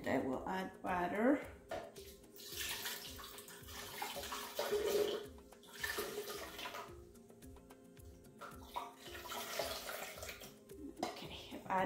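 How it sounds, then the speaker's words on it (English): Water pours and splashes steadily into a blender in bursts, over sprouted fenugreek, with a person talking over it at moments. "I will add water."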